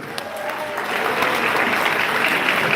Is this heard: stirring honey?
no